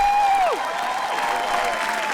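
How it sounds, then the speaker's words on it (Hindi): A comedy roast show audience applauds in a steady wash of clapping while a descending whistle-like tone slides down near the start, with no clear talk. "एक बार दोनों के लिए तालियां प्लीज यार।"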